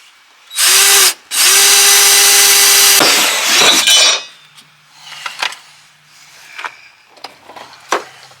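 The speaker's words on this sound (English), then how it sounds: "I got my drill here, drill a hole." A power drill bores a hole in a travel trailer, with one short loud whine and then a longer sustained burst close by, followed by quieter scattered clicks and handling noises.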